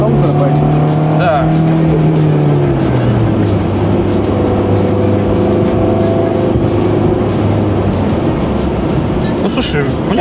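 A 1995 Opel Omega B with a 2.0 X20XEV engine and manual gearbox hums steadily at close range, its pitch dropping as a gear changes, then holding a strong drone beneath road noise throughout.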